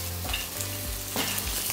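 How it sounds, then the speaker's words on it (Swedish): Food sizzles and fries steadily in a hot pan, a continuous close crackle with a few louder bursts of spattering and stirring, with no voices. "Nu steker det."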